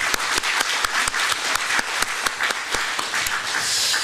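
A church congregation applauds together, a dense, steady wash of many hands clapping at close range that holds evenly throughout, with no voices above it.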